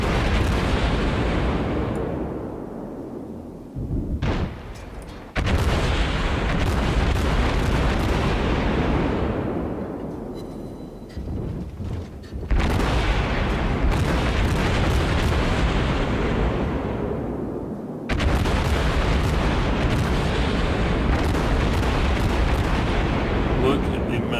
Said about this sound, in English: Look at the amount of fire that this ship can put out.